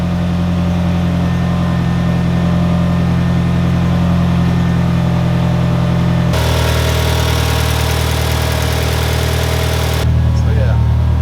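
A 1991 Eagle Talon engine idles steadily after a cold start, a loud continuous low drone with a slight shift in tone partway through, close to the microphone.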